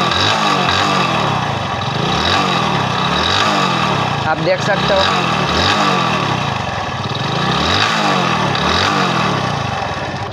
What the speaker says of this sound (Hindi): तो गाइज, पहले तो आपको किक स्टार्ट करके इसका नॉइज दिखा देते हैं।